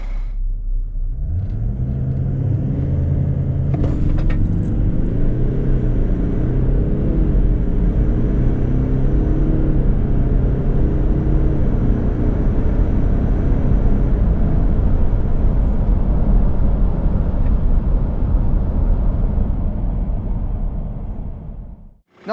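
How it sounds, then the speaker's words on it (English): Toyota LandCruiser 200 and 300 series in a 0 to 100 acceleration run, a loud sustained engine roar with rising pitch through the gear changes, a steady rumble lasting about twenty seconds before stopping abruptly, with no voices. "Here's some footage showing a comparison between the 200 series and the 300 series across the 0 to 100 sprint."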